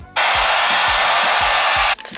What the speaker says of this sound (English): I'm gonna use a blow dryer.